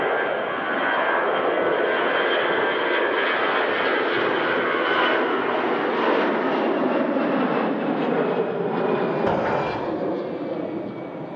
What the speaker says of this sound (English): Mega departure there, Lufthansa.